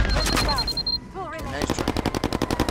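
Rapid gunfire in the game Firewall Zero Hour: a quick burst at first, a brief gap with a voice, then a fast evenly spaced volley of loud close shots.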